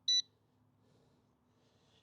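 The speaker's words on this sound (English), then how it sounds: "we should get a beep when it connects" A JJRC X40 Pro GPS camera drone controller gives a single short, clear electronic beep as it connects, then only faint background noise follows.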